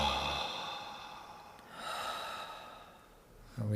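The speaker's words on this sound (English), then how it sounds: "we're going to take 3 deep breaths in together" A slow, deep inhalation drawn into the lungs during a guided breathing exercise, a soft airy rush that swells and fades over several seconds, close and fairly quiet, ending in a brief low thump.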